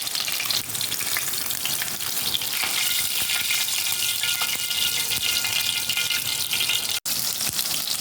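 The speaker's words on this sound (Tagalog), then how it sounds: "Ika-fry ko muna ang eggplant" Eggplant frying in a pan, a dense, steady crackling sizzle of hot oil that carries on loud and close for the whole stretch, with no talking over it.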